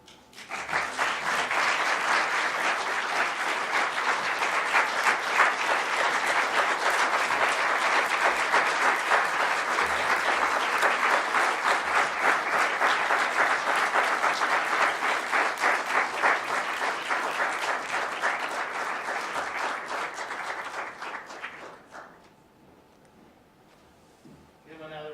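Long, sustained audience applause for a Holocaust survivor guest speaker, a dense, even ovation that holds for about twenty seconds before fading out abruptly into a quiet room.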